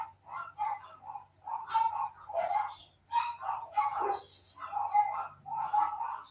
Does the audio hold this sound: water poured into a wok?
no